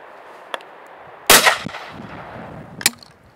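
Shotgun fired at a clay pigeon target outdoors, a single sharp loud blast with a short decaying tail, preceded by a faint click and followed by a smaller metallic clack.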